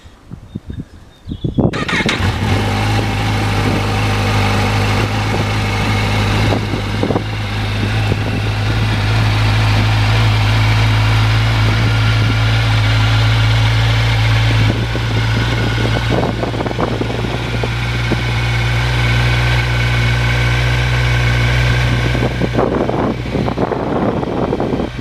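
A motorcycle engine with standard twin exhausts, 2,788 miles on the clock, cranks and starts, then settles into a loud, steady, close idle that runs for the rest of the stretch with no talk.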